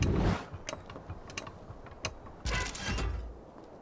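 A lever is pulled in Prince of Persia: Sands of Time, giving a heavy mechanical clunk followed by scattered clicks, ratchets and a second grinding thud, close and with no voices.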